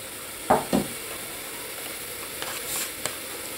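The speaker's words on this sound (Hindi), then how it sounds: "मैंने खीरे और आलू अच्छी तरह से भून लिया है और अब मैं डालूंगी टमाटर और उसके साथ हरे मिर्च भी मैं डालूंगी।" Tomatoes and green chilies dropped into a pan of frying cucumber and potato give two quick, close sizzling bursts, then the pan settles to a faint hiss with a few small crackles.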